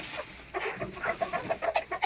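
Chickens and roosters clucking while eating feed, a quick series of short, close clucks and calls growing busier toward the end.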